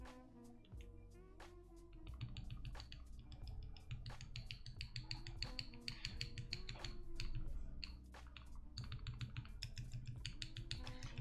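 Typing on a Key65 custom mechanical keyboard with lubed switches, a close run of soft, rapid keystroke clacks in uneven bursts, heard alone and fairly quiet.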